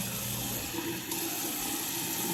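Tap water running into a container up to a fill line for slime, a steady, continuous gushing and splashing stream with no talk over it.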